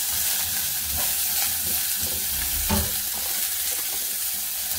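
Anchovies stir-fried in oil over a hot burner, a steady broadband sizzle with soft scraping stirs throughout, fairly close and even in level.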